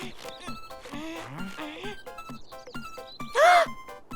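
A cartoon mobile phone rings in a short, bright electronic burst near the end, after animated voices talk over light background music.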